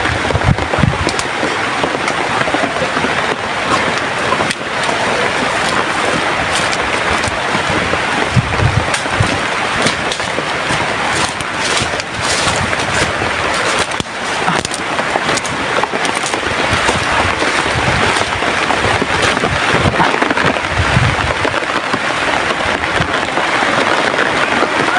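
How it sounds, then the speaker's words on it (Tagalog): Heavy rain pouring down outdoors, a dense continuous hiss of drops drumming on surfaces, loud and unbroken throughout with occasional low rumbles underneath. "Malakas ang ulan mga tol."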